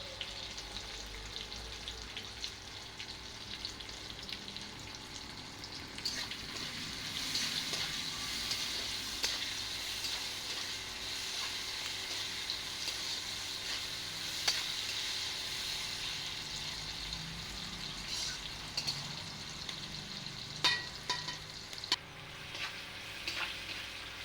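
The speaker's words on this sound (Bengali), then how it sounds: "পেঁয়াজ কুচিগুলো তাড়াতাড়ি ভেজে যাওয়ার জন্য প্রথমে লবণ দিয়ে দেব" Chopped onions with salt fry in a pan for a vegetarian Bengali kochu data (taro stem) dish, giving a steady, close sizzle with occasional stirring scrapes and clicks throughout.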